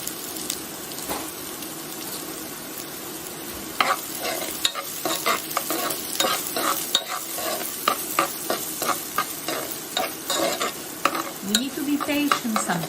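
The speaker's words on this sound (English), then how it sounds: "We don't want to burn the onion. We want to sweat it." Onion sweating gently in a pan gives a steady sizzle, with frequent rhythmic scraping and clattering of a utensil stirring throughout.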